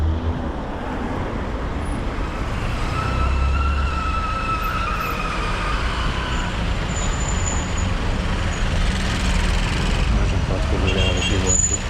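Road traffic rolls past on a warm day, a continuous rumble of cars with a bus or truck, one or two faint horn-like tones and brief passing swells.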